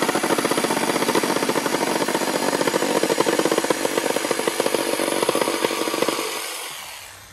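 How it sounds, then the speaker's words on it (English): A power saw cuts through a termite-damaged house wall panel with a loud, rough, continuous buzzing and rattling drone that runs for about six seconds before winding down, heard up close without voices. "So we're cutting this like a jigsaw."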